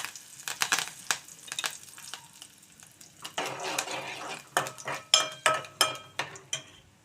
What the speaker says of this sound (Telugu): ఒక ఎండుమిర్చి తుంపుకొని వేసాను. అలాగే కొంచెం కరివేపాకు